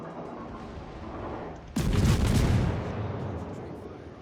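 A loud, close naval gun salvo from the Chinese cruiser Huanghe in the World of Warships game, one heavy boom that rolls and rumbles for a couple of seconds over a steady background of game ambience.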